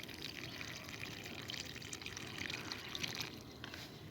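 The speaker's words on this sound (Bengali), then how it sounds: "এবার গাছের গোড়ায় আস্তে আস্তে জলটা ঢেলে দিন" Water poured slowly onto the soil at the base of a rose plant, a soft, faint, continuous trickle and splash heard alone at low volume.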